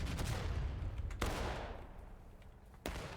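Musket volleys crash out in a Civil War game battle, a dense fusillade of overlapping shots with a sharp new burst near the start and another near the end, loud against a continuous rumble of battlefield gunfire.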